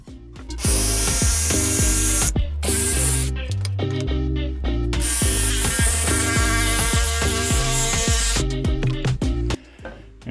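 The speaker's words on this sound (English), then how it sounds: "we will cut this with the jigsaw" A jigsaw cuts a scribed circle out of poplar board, a loud, close buzzing motor whine with a rapid stroking rattle that runs almost continuously, dropping out briefly a few times between bursts of cutting.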